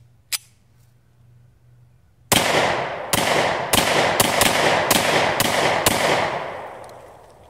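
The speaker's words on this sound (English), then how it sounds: "These are 8 rounds of Hornaday 180 grain jack and hollow point." Colt Delta Elite 1911 pistol firing Hornady 180 grain jacketed hollow point rounds: eight sharp, loud shots in a quick irregular string, each with a short ringing tail, preceded by a faint click.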